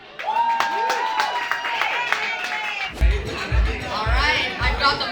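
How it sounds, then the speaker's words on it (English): Crowd at a live launch party event clapping and murmuring, chatter and cheering mixed into the applause, with thumping bass beats coming in partway through. "Everybody give a round of applause for Langley."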